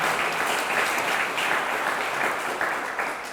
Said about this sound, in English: So let's applaud that one more time.